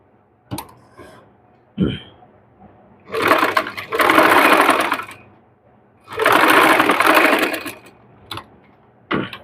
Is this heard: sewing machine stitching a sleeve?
yes